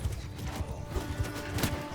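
Cavalry horses charging in Bannerlord, a medieval battle game: a steady run of drumming hoofbeats in quick, uneven rhythm, loud and close, with a broad rumble of battle noise behind.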